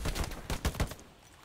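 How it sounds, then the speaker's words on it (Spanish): A quick burst of gunshots fired in the World War II shooter Hell Let Loose, several sharp close reports in fast succession over about a second, then a fading tail. "He tirado unos cuantos tiros al suelo."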